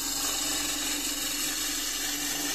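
Wood lathe running while a woodturner cuts with a chisel, a steady close whirring drone with a hissy cutting texture, continuous and unbroken throughout.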